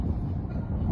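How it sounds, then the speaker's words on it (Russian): Strong wind blowing on a cold grey evening near Volgograd, a brief loud low rush buffeting the microphone. "сейчас ветер такой поднялся, прям сильный"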